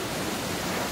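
The Perwa Tata waterfall in a forest, running with fairly low water, gives off a steady, dense rushing hiss with no breaks.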